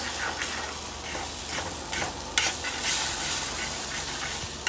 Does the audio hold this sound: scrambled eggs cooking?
yes